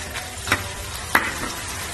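Sichuan peppercorns and dried chilies fry in hot oil in a wok, giving a steady low sizzle with a few sharp crackles and pops standing out above it.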